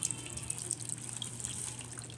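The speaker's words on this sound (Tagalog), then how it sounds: "sasabawan ko po yan ng kanyang pangalawang gata" Second-extract coconut milk is poured into a pot of pinangat made with taro leaves, giving a faint, steady trickle with small drips, close and quiet.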